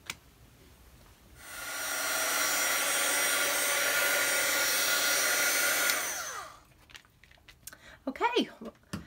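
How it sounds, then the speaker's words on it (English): A heat gun blows a loud, steady airy roar for about five seconds while drying a faux leather journal cover, then cuts off; soft handling noises and a voice follow. "I used my heat gun to dry it"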